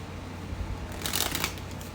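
A deck of tarot or oracle cards being shuffled by hand, a short burst of crisp riffling and flicking close to the microphone after a quiet lead-in, with no talking.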